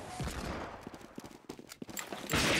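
Rapid gunfire from a Team Fortress 2 Murder Mod match crackles in quick irregular bursts, close and loud, with brief pauses between volleys and a wash of louder noise at the end.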